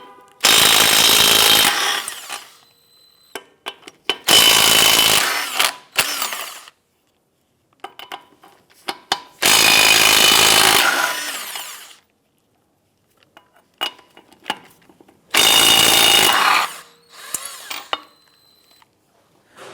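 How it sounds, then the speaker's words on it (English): Power tool spinning a 21mm socket to loosen and remove lug nuts on a 2007-2012 Nissan Versa: four loud whirring bursts of a few seconds each, separated by quiet gaps with small metallic clinks and rattles. "we're going to loosen and remove the lug nuts."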